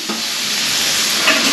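Food stirred in hot oil in a pan, a steady close sizzle with soft scraping as the pieces are mixed, heard alone without talk.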